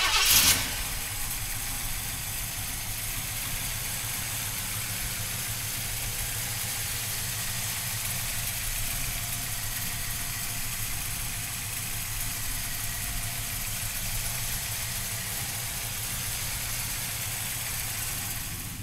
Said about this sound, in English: come on up and we're gonna fire this horsepower up